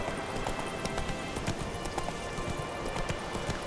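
Roach, a horse in the Witcher 3 video game, gallops at a quick, even pace, its hooves striking in a steady rhythmic clatter over a continuous bed of ambient sound.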